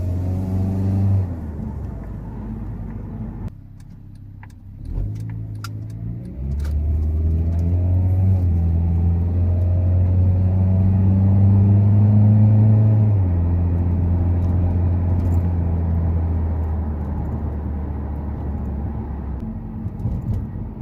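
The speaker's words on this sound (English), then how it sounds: "at certain RPMs, the exhaust makes this thing rattle more than the actual motor mount" A Honda Civic with window-weld motor mounts drives along, its engine and exhaust droning loud and close with a buzzy rattle, the pitch dipping briefly then rising and holding steady as it accelerates and cruises.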